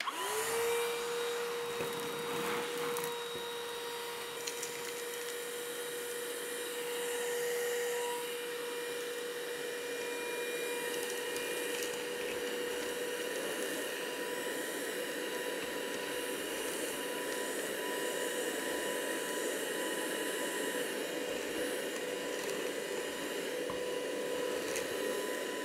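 A FERM cordless shop vacuum runs steadily, its motor spinning up at the start to a constant whine and airflow roar that holds close and even throughout, with no talk.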